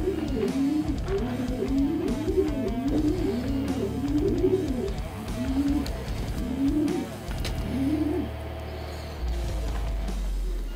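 Several pigeons, including a pied hen, coo in repeated rolling phrases at a steady rhythm over about eight seconds, close and clear, with faint background hum and the cooing stopping near the end.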